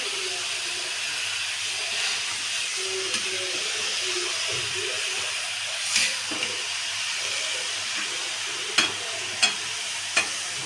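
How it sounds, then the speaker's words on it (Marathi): Carrot halwa fries in ghee with a steady soft sizzle and hiss while a spoon stirs it, scraping gently, and a few sharp clinks of metal against the pan come near the end. "हलवा चांगलं मिक्स करून घेऊया."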